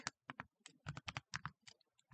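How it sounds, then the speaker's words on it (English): Typing on a computer keyboard while entering a quadratic function to graph, with a quick uneven run of close, crisp key clicks and short pauses between them. "Just give me a minute to type that real quick."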